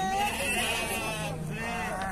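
Sheep bleat repeatedly at a livestock fair in Dois Riachos, Alagoas, several loud wavering calls close by over a busy crowd murmur, with people talking nearby.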